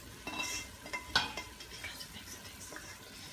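Ground beef is stirred in a pot, scraping browned bits off the bottom: soft scrapes, light clinks and a faint sizzle close by, with no talking.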